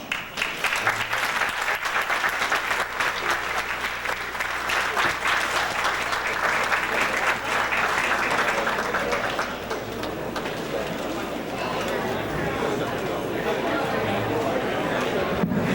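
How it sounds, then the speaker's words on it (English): Audience applause at a lecture on natural healing, a dense, sustained roar of many hands clapping, loud and continuous, easing slightly toward the end with murmuring voices beneath. "See if I can save a round of applause"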